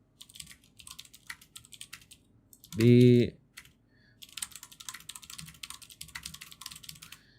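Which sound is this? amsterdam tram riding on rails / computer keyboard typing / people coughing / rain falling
computer keyboard typing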